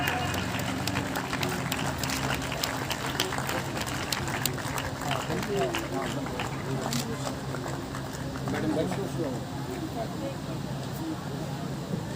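An audience at a university event claps in a sustained, dense round of applause lasting the whole stretch, with a voice talking over it at times.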